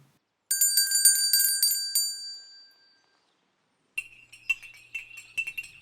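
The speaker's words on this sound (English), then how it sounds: "There goes the tea bell, said Mrs. Carter." A tea bell rings out with a bright, metallic peal that fades away, followed after a pause by a series of quicker, lighter chimes and clinks, all close and clear with no voices.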